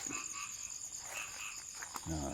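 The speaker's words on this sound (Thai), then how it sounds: "ตอนนี้ก็ยังมี เสียงกบเสียงเขียดนะครับ" Frogs croaking and calling steadily at night around a rural farm pond plot in Thailand, with insects buzzing alongside, a continuous outdoor chorus at moderate distance with no talk.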